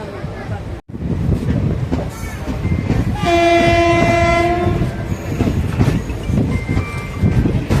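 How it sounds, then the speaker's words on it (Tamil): A loud, sustained horn from an Erode-based WAP-4 electric locomotive blares for about two seconds over the rhythmic rumble and clatter of a moving Madurai–Coimbatore passenger express, after a brief sharp click. "ஈரோடு வேப் 4 ஹார்ன் சூப்பராக இருக்க சவுண்டு"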